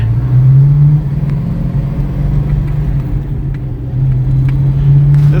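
A 1965 car engine rumbles loud and close as the driver shifts into third gear, the revs dropping briefly mid-shift and then climbing again, with no talk over it.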